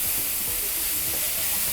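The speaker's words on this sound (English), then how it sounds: "I like to get the onions and the garlic a little bit caramelized and softened in the recipe" Onions and garlic sauté in a hot pan, giving a steady, close sizzle with a faint crackle throughout and no talking.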